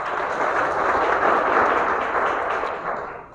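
An audience applauds steadily to welcome guests visiting from London, dense clapping that holds level for a few seconds before trailing off.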